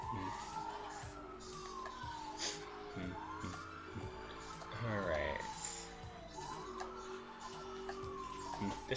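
Police sirens wail in repeated rising and falling sweeps over engine and tire noise in the video game Need for Speed Hot Pursuit, with a voice talking over them.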